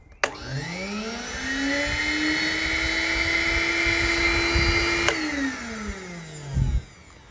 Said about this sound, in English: That's a 1250-watt vacuum cleaner running off the car system.